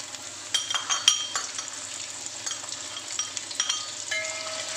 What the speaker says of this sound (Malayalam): ഇതിനകത്തോട്ട് നമ്മളിത് ഇത്രയും തേങ്ങ, 1 മുറി തേങ്ങയുണ്ട്, ഇത് വറുത്ത് കോരാൻ വേണ്ടി ഇടാം.